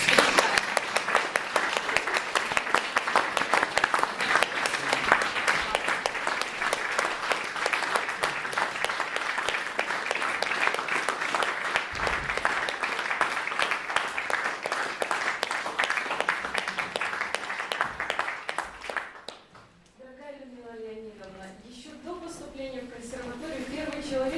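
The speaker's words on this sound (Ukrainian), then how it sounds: "Ваши аплодисменты." Sustained audience applause at a jubilee evening honoring a People's Artist of Ukraine, many hands clapping densely and loudly for about twenty seconds before fading out, then a voice begins speaking.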